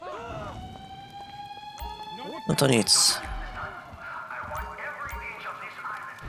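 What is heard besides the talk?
alarm going off during a heist in the video game GTA Online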